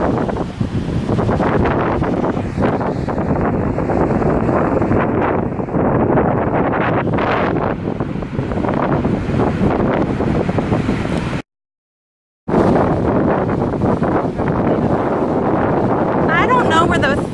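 Strong Hurricane Irma wind roars into the microphone as a loud, steady, close buffeting that runs almost the whole time, broken only by a brief cutout near the end.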